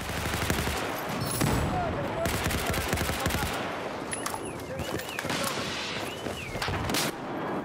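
Automatic fire from Battlefield 4 rattles in dense, close bursts with brief gaps and scattered distant shots, while a voice speaks intermittently underneath.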